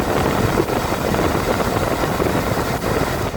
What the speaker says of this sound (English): Right now, that is cold air blowing out at me